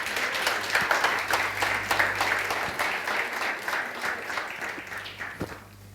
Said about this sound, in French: Est-ce qu'on peut applaudir le Seigneur, s'il vous plaît?